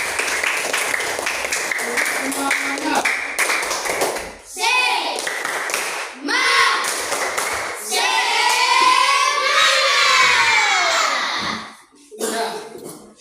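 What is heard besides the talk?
children clapping hands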